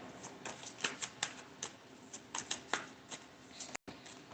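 Tarot cards drawn from a deck and laid on a table, a series of light, crisp card snaps and taps in an uneven rhythm, close and fairly quiet.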